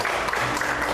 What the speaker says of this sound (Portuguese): Você pode aplaudir o Senhor nesta noite?